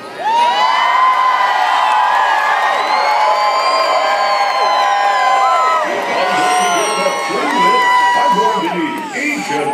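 A large holiday crowd at an outdoor Christmas tree lighting cheers, whoops and shouts for St. Nick, children's voices prominent, a loud, sustained roar that swells and ebbs across the whole stretch.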